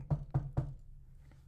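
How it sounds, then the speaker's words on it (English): Three quick knocks on wood in an even rhythm, fairly close and moderately loud, then a faint fourth tap, alone with no speech. "Knock on wood."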